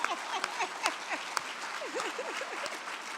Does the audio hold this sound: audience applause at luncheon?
yes